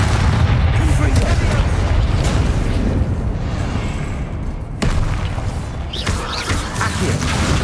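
Confringo fire-blast spell going off in Hogwarts Legacy combat, heard as loud booming explosive bursts layered over busy game effects, with a second sharp blast near the end.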